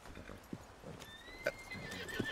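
A thoroughbred horse in Red Dead Redemption II gives a clear whinny partway through, with soft hoof clip-clops and faint ambient game noise around it, heard alone without talk.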